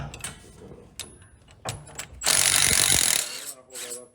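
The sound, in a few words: ratchet loosening sway bar end link nut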